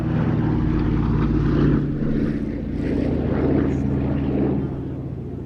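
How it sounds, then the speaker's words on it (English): A C-47 propeller aircraft engine drones steadily at an air festival, a loud, continuous low throb that swells slightly and eases off near the end. "C-47 has a very, very recognisable sound."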